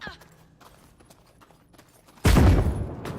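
A grenade blast in The Cycle: Frontier: a single sudden loud explosion near the end that hangs on briefly, after a quieter stretch of faint game sounds and clicks.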